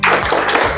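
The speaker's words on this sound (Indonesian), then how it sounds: "Sekarang tepuk semangat." A group does a rhythmic spirit clap, one loud, dense burst of hands close by that is brief and sharp, with no voices over it.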